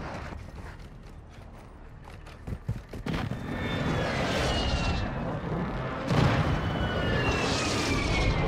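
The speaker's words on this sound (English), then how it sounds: "Friendly precision airstrike inbound." Precision airstrike jets sweep overhead in Modern Warfare team deathmatch multiplayer, a loud rising roar that builds after a few sharp clicks and holds steady with a second surge near the end.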